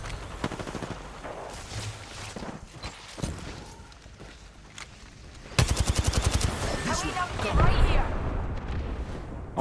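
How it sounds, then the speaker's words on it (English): Rocket fire during a video game battle royale match, with rumbling blasts and rapid volleys of shots that grow louder midway, mixed under commentators talking. "Those rockets here might buy you the space to be able to get things together."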